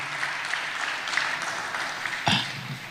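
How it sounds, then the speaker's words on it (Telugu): Audience clapping at a Telugu Christian sermon, a steady mid-level patter of many hands with a brief louder burst near the end. "చప్పట్లు కొడితే యేసయ్యకు స్తోత్రాలు చెప్దాం."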